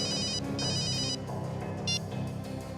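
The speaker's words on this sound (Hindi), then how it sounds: "फ्रेडी का फोन था।" A telephone rings in a tense Indian crime-drama scene, with bursts of electronic ringing over a dense musical underscore.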